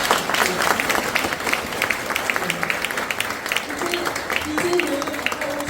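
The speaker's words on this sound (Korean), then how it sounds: "우리 합창단에게 한 번 더 박수 보내주십시오" An outdoor audience at a Korean labor monument unveiling ceremony claps for a choir, giving sustained, dense applause with voices murmuring underneath throughout.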